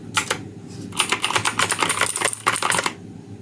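Rapid typing on a Redragon K552 Kumara budget mechanical keyboard: dense, uneven bursts of close-up clacky keystrokes with brief pauses and no talking.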